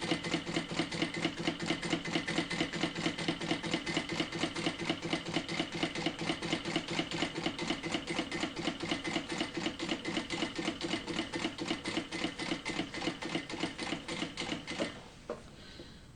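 A sewing machine runs a continuous fast seam through fabric for a rose circle crossbody bag, its rapid even stitching pulse close and steady for about fifteen seconds before it slows and stops.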